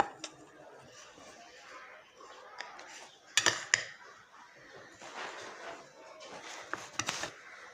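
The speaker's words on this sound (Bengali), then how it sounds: "এখন আমরা একটা মিক্স করে নিব।" A spoon mixes milk and sugar in a container, with scattered light clinks and a brief cluster of sharper taps against a low, steady background.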